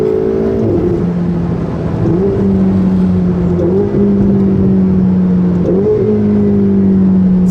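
A Ferrari sports car with a seven-speed dual-clutch gearbox accelerates hard, its loud engine tone climbing steadily, dropping at each quick upshift, then rising again across several gears.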